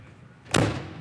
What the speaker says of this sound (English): And when you slam the door on an Airstream, you can hear the quality.